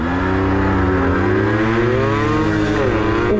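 A Yamaha YSR 50 small motorcycle engine revs hard and close, a loud buzzy whine climbing and wavering in pitch as it is wound out through the gears.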